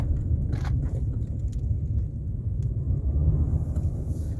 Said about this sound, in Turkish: Ama şu turbo sesi her devirde açıyor ya.